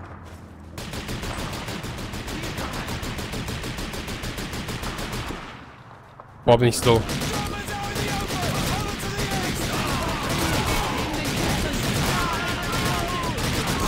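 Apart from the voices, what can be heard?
gunfire in the video game Call of Duty 2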